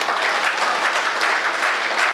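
Audience clapping at a Hindi poetry recitation, a dense, loud burst of applause sustained evenly without voices over it.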